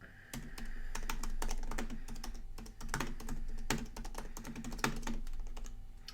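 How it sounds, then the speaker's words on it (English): Close, steady typing on a computer keyboard as a prompt is entered into ChatGPT, a quick irregular patter of key clicks with occasional louder strikes, no voices. "So I'm just going to type this in here."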